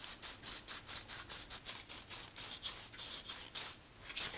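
Sandpaper rubbed over the outside of a metal spray can to roughen its surface, a steady run of quick, scratchy back-and-forth strokes, close and fairly quiet, with no talking.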